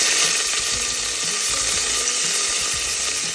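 Curry leaves sizzle and crackle in hot coconut oil with mustard seeds, a loud, steady frying hiss that runs continuously with no voices over it.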